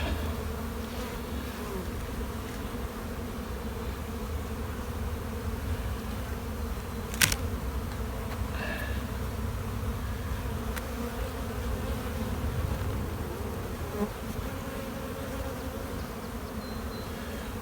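Dense, continuous buzzing of many honeybees close by around a hive, a steady droning hum with occasional louder passes and faint clicks.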